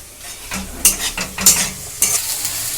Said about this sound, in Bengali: ক্যাপসিকামটা কিন্তু পেঁয়াজের সঙ্গে আমার কষাটা কমপ্লিট